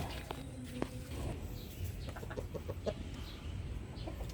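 Breeder chickens cluck and peck softly as they are fed fresh greens, a low scattering of faint clucks over steady farmyard background noise.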